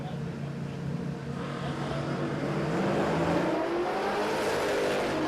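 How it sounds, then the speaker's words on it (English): Big block Chevrolet HG Ute making a drag racing pass at Palmyra Raceway, a loud sustained engine roar that climbs in pitch through the gears as it accelerates away. "Big block Chev in the HG Ute. Done a nice pass there."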